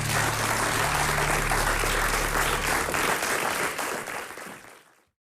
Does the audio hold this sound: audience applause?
yes